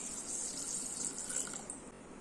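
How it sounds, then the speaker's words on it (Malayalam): Water runs steadily in a continuous hiss-like stream, poured into a pressure cooker, with faint clatter underneath. "ഇനി നമുക്കിതിലേക്ക് കുറച്ച് വെള്ളം ചേർത്ത് കൊടുക്കാം"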